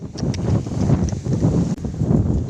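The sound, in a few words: strong wind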